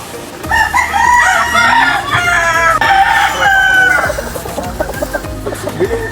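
Chickens and a rooster on a farm in Payatas, Quezon City: loud nearby crowing and excited clucking, with several overlapping calls that fade into scattered clucks.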